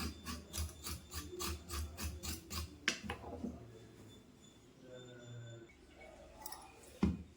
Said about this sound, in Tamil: இப்போ இதை வந்து அப்படியே சுரண்டிக்கலாம் இந்த மாதிரி சுரண்டிக்கலாம்